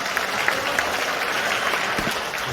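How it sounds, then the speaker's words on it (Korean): A crowd at a political party members' training event claps warmly for an association chairman, a brief, even burst of many hands at steady volume with no speech over it. "안진찬 회장님께 다시 한번 뜨거운 박수 보내주십시오"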